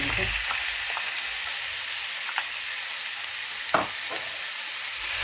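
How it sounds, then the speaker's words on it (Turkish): Meat sautéing in a hot pan for chicken and vegetable pilaf, a continuous bright hiss with a few faint clinks and stirring taps, close and fairly quiet. "önce etim bir sotelensin"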